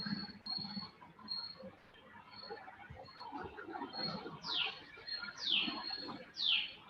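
A bird calls repeatedly, with a thin, sustained high whistle and then three sharp, descending chirps near the end, heard faintly over a noisy background.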